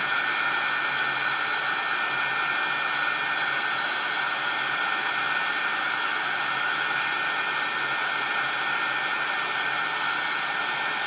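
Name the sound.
heat tool blowing hot air for heat embossing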